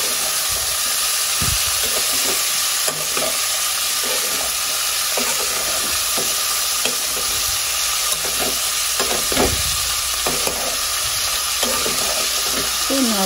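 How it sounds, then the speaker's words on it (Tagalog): String beans for a spicy adobong sitaw are stirred in a hot frying pan, a loud steady sizzle and hiss with repeated scraping strokes of the spatula throughout. "Ayan, ilalagay na po natin itong sitaw. So, napakasarap po nito. At ayan nga po, haluin na po natin."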